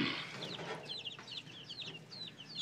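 Chickens cluck and chirp softly while pecking at a moth, a series of short rapid calls at moderate distance over a faint background hiss.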